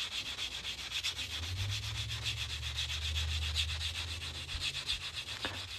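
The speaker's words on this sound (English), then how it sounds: "still got a little bit of a nick right there that I need to sand down" A Morgan silver dollar being shaped into a coin ring is sanded by hand, producing rapid, even scratchy strokes that repeat close by, quiet and alone.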